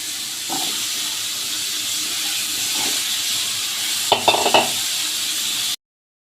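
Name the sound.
potatoes frying in oil in a wok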